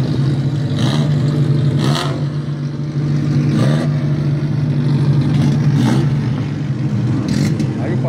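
Turismo 1.4 Brasil race cars idle and rev near a pit lane during qualifying, a steady engine drone with several louder rasping bursts as cars pull away, while someone talks over the noise.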